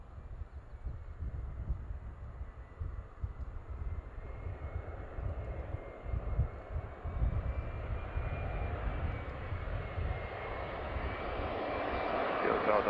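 An airliner approaches to land at Seattle airport, heard as a faint, distant, low jet rumble with a thin high whine that slowly grows louder over the stretch.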